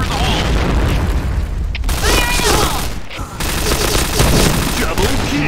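A bomb blast in the shooter game Point Blank lands with loud, heavy booms amid bursts of rapid gunfire, the explosions dominating a dense, continuous barrage of combat noise.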